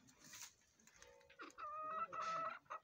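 A moulting Aseel hen, not laying until her new feathers grow, clucking close by: a short run of soft, broken clucks that ends in a louder drawn-out call.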